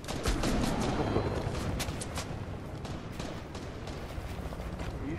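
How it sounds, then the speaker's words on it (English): Gunfire aimed at the player in a video game, a busy crackle of rapid shots and scattered cracks from several sources over a constant noisy din, without a clear pause. "Now they're shooting me."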